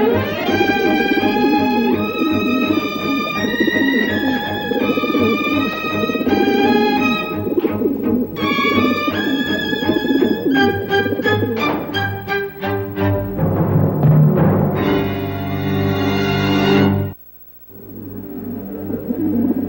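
Pigeons cooing, a drawn-out series of resonant tonal calls in overlapping phrases, loud and close, ending in a brief pause and a fainter final sound, with no speech.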